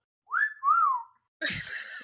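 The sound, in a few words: person whistling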